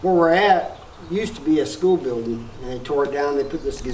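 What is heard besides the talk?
No everyday noises stand out.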